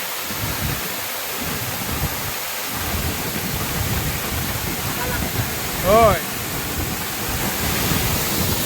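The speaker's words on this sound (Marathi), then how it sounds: "खूप सुंदर असा धबधबा आहे" A waterfall at Katalkada in Rajapur roars as a steady, loud wash of falling water at night, with a person briefly speaking over it and a short whistling chirp near the end.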